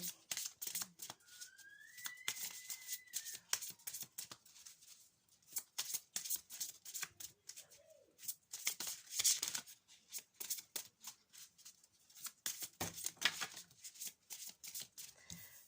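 Tarot cards are shuffled by hand for a weekly Gemini reading, a close, steady run of papery riffles and slaps in rhythmic bursts for the whole stretch.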